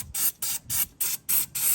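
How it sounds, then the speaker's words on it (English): Holts brake and clutch parts cleaner is sprayed onto a car's parts in six sharp hissing bursts with short gaps between them, close to the listener and loud. "This is a Holtz one. I'm just going to give this a spray."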